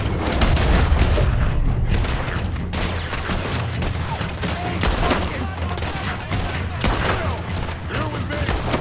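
Dense gunfire erupts during a bank robbery shootout in Red Dead Redemption, many loud shots and booms overlapping continuously, with voices talking underneath.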